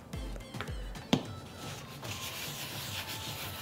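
Cloth or fingers rub oil over a cast iron skillet being seasoned after rust removal, soft close scraping and wiping strokes with one sharper knock, quiet, with no speech.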